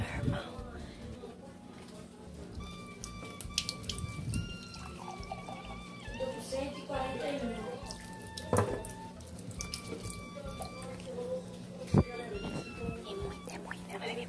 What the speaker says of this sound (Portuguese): enquanto eu lavo a louça aqui de casa